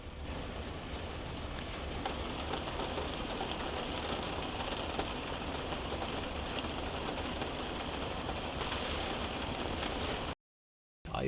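Heavy rain drums on a tarp at a campsite in the Norwegian fjords, with no wind: a dense, steady patter that stays close and loud before it cuts out suddenly near the end.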